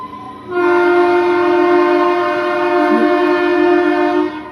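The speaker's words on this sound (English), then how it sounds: "You can hear the toy train going behind me." A toy train's horn blares in one long steady tone for several seconds, loud and fairly close, with no voices.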